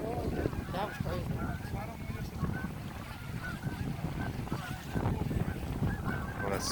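Geese honk in a loud flock near a bridge demolition, repeated calls rising over a steady roar of background noise while people talk nearby.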